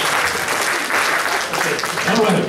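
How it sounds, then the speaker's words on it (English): Loud, close clapping from a hypnosis show audience fills the space, steady and continuous, with a murmur of voices mixed underneath. "Go ahead and give them some applause"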